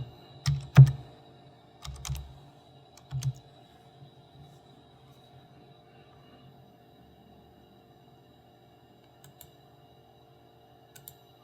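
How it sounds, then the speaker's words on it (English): Computer keyboard typing in a machine-control classroom session: a few short bursts of close keystroke clicks in the first few seconds, then near silence with a faint hum and a couple of soft taps. "I'll just access it directly by typing in the IP address"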